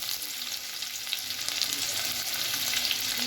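Chopped onions sizzle steadily in hot oil with mustard seeds, dry chilli and curry leaves, a bright continuous frying hiss with faint stirring scrapes, close up.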